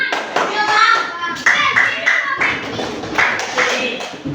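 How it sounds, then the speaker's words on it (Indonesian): A group of students claps the rhythmic tepuk semangat ice-breaker pattern in a classroom, sharp bursts of clapping in quick sets with short gaps, loud and close, with voices mixed in. "Ice breaking tepuk semangat."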